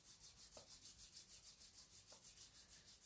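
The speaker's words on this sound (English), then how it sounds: "Rubbing your palms" Palms rub together in a steady back-and-forth rhythm, a soft, even swishing friction during a quiet yoga practice session.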